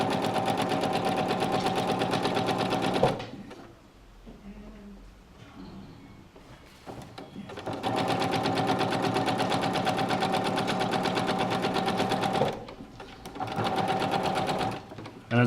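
Sewing machine stitching a hem in ripstop fabric, a steady close buzzing run that pauses midway for a few seconds, then resumes and finishes with a short backstitch burst.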